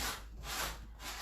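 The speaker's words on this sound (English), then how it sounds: "I think it's very important that I give it a good sand." A couch cushion gets sanded by hand between coats, giving close, steady rasping strokes in a slow back-and-forth rhythm, roughly two and a half passes, with no talking.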